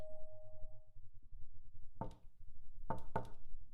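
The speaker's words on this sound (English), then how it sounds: "Oh my god, somebody's knocking on the door, like those 4 knocks." Knocks on a door in the visual novel game Chaos;Child sound over a low droning game soundtrack: one sharp rap, a pause, then a quick pair of loud, close thuds.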